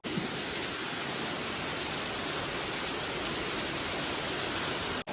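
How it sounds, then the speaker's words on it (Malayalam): Heavy rain pours in a dense, steady hiss that holds unbroken throughout before stopping abruptly at the end. "നല്ല മഴയാട്ടോ"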